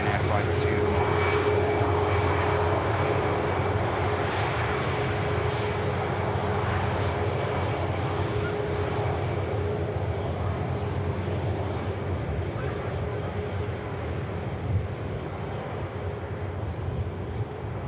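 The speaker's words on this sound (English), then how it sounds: "I'd say behind is the Ryanair flight to the Limoges." A Ryanair airliner taxiing at Manchester Airport: a steady, broad engine roar with a low hum and a faint high whine, close and sustained throughout, with a voice talking over it.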